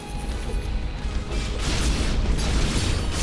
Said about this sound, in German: Alles explodiert und alles stirbt.